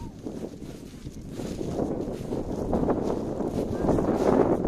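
Strong wind buffeting the microphone outdoors near a heart-shaped tree, a steady roaring rumble that builds louder toward the end, with no clear voices.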